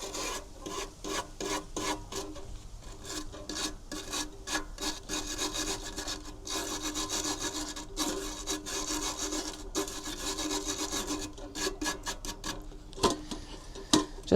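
Steady rasping scrape of a tool working residue off a bee smoker lid and around its edging, continuous strokes with short pauses, close and fairly loud, no talking.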